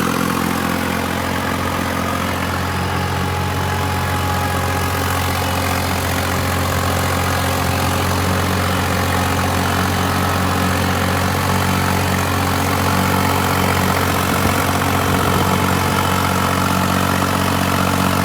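A New Holland 5620 tractor engine runs with a 12-foot Prime Agritech rotavator attached, a loud, steady, unbroken drone held for the whole stretch with no talk.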